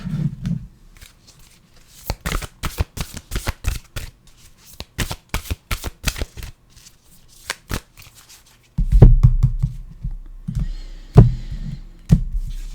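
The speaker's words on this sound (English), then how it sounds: "let's get an oracle card here" A deck of oracle cards shuffled by hand in bursts of crisp, rapid riffling slaps, with quieter pauses between and some low handling thumps near the end.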